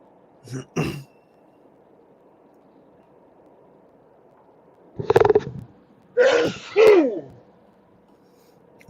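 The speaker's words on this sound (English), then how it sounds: "Bless you." Short bursts of a person's sneeze and throat sounds, picked up by a microphone flipped up away from the mouth; an isolated burst early, then a cluster of two or three quick loud bursts later over a faint background hum.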